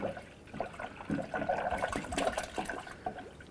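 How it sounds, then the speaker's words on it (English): Manufacturer-specified coolant pours into the radiator of a Toyota Sequoia during a thermostat and gasket replacement, a continuous gurgling, splashing liquid sound with bubbly irregular bursts, close and moderately loud. "go ahead and put in manufacturer's specified coolant"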